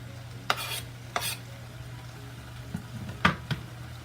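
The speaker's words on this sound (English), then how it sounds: "You just gotta maneuver it in the pan. Once it starts cooking down, then you'll have a lot more room for your potatoes." Chopped cabbage and sausage sizzling steadily in a pan, with a few sharp scrapes and clacks of a utensil stirring and pushing the food around over a low, constant hum.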